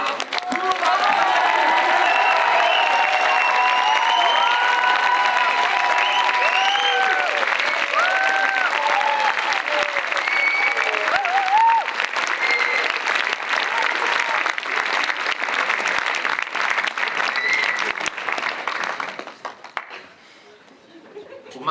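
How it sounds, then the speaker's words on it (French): A large audience applauds loudly and continuously at a stage revue, dense clapping with scattered cheers, fading out abruptly at the end. "Un tonnerre d'applaudissements, s'il vous plaît."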